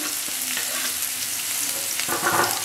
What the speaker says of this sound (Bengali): এবার এর মধ্যে আমি দিয়ে দিচ্ছি একটা ছোট সাইজের পেঁয়াজ কুচি, শুকনো মরিচ 2টা একটু ছোট ছোট করে কেটে নিয়েছি।